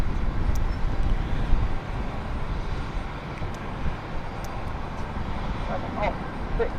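An airplane landing at London City Airport, a broad, steady distant jet rumble with faint higher noise, heard from a distance without prominent talk.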